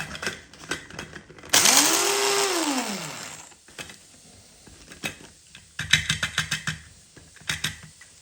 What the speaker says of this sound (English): we're going to go ahead and put it into our spice grinder and grind it until you get a fine powder